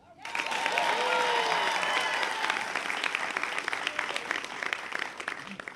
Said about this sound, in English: we applaud a few more times for this student